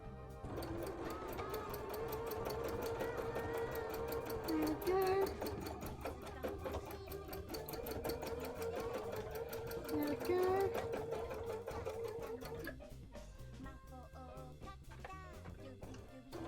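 A sewing machine stitches an Uzumaki bra in one continuous fast whirring run with a steady motor hum, close and clear, pausing briefly near the end while a voice talks over it.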